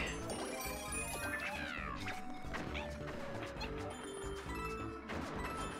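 A cartoonish cat meows from Super Mario 3D World amid busy game music and sound effects, with a few rising swoops and bright hits layered over a steady, moderately loud musical bed.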